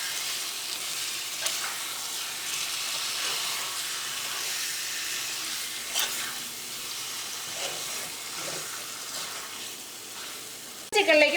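Chicken with salt and masala sizzles in a pan while being stirred, a steady frying hiss broken by scraping strokes and a clattering knock at the very end.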